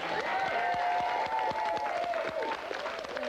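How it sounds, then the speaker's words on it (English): A television studio audience claps on a 1992 TVS show. The applause is loud and continuous for a few seconds, with a tonal sound running through it. "I think he deserves a round of applause."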